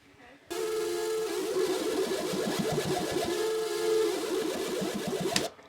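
A harsh synth line, heavily distorted through a mixing desk and recorded back, with buzzy, saturated tone and a pulsing rhythm plays steadily for several seconds, then stops abruptly.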